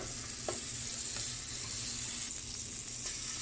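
Butter sizzles in a frying pan alongside salmon, a steady close crackling hiss with a faint tap or two, no talking.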